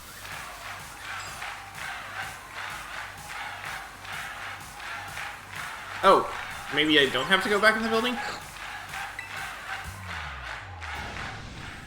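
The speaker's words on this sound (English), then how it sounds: "What's all this noise I'm hearing? This crowd's so loud it could wake the dead!" A crowd cheers in the video game Pokemon Violet, a steady rhythmic roar with chanting that swells midway, heard under someone talking.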